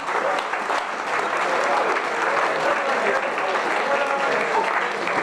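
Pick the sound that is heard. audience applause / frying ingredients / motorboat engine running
audience applause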